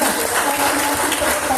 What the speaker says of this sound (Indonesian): Mari tepuk tangan buat mereka semua